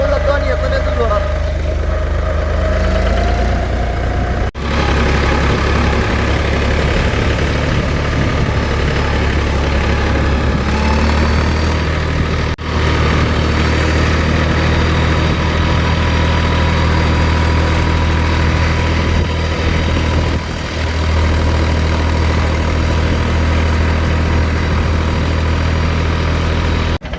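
A tractor engine runs steadily while driving along with a trolley hitched behind, a loud continuous low rumble that fills the whole stretch close up, with brief dropouts and occasional voices faintly underneath.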